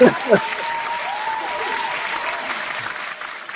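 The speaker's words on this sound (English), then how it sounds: "Can I get a round of applause for Joey there?" Audience gives a short round of applause for Joey, moderate and steady, with a voice breaking in briefly at the start and faint talk underneath.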